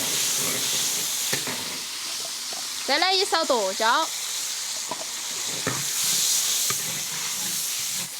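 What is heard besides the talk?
stir-frying aromatics and sour soup seasoning in oil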